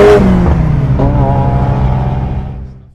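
A Nissan GTIR's SR20 engine revs sharply at the start, then settles into a steady idle that fades out over a few seconds.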